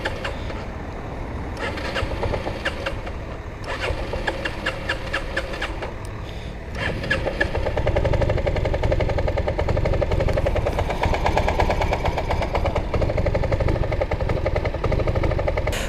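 A 1984 Yamaha Riva 180 scooter engine that refuses to start: a continuous rough mechanical drone with rapid repeated pulsing, growing louder and denser partway through and carrying on steadily.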